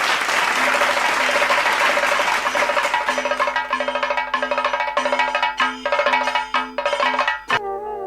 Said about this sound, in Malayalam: എല്ലാവരും ഒന്ന് ഉഷാറായിട്ട് കൈയടിച്ചേ